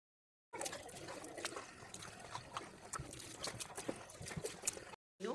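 Water runs steadily from a tap into a sink during tooth brushing at home, a continuous close splashing trickle with small irregular spatters and no talk.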